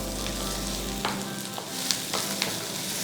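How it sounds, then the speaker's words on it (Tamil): Tomatoes sizzle and fry steadily in a pan for a spicy vanjaram (seer fish) curry, with a few light clinks of stirring over the continuous hiss. "தக்காளி ஒரு 5 தக்காளி இதில் கொட்டி இதையும் வதக்கிக்கலாம்"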